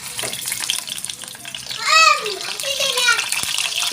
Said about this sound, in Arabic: نقدح الزيت بقى ونحمر البطايه على الهادي